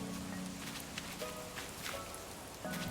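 Continuous rain effect from Animal Crossing: New Horizons hisses evenly beneath soft musical notes and light footstep-like taps, moderately quiet and without speech.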